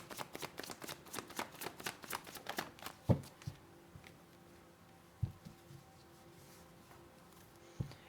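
Tarot cards are handled and pulled from a deck: a quick run of soft, crisp riffling flicks, then a few isolated taps and slides as single cards are drawn, close and quiet.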